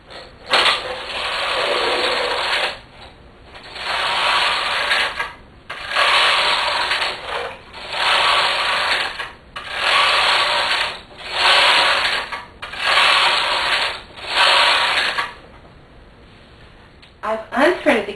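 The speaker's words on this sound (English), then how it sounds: "I'm going to thread up and knit a few rows of waste yarn" A knitting machine runs rows of waste yarn for a slipper, its carriage swept back and forth in about seven regular whooshing, rattling passes, each roughly two seconds long, close and fairly loud with short pauses between them.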